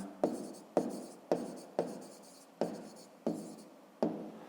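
Pen writing on paper while working a 5th-grade math exercise, seven separate scratchy strokes, each a sharp onset that fades, spaced in a steady rhythm, close and alone.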